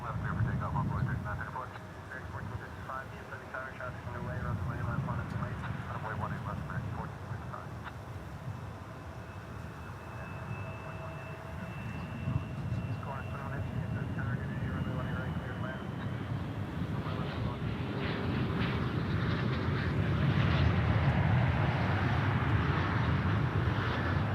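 An American Airlines jet takes off from runway 18 left at Dallas Fort Worth airport, a broad sustained engine roar that builds and holds at a distance, with steady whine tones and radio talk heard over it.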